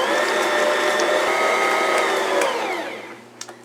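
A Bosch stand mixer whipping softened butter, a loud close motor whine that runs steadily, then winds down near the end, followed by a couple of light knocks.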